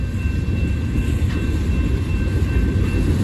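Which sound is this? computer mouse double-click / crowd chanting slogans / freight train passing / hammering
freight train passing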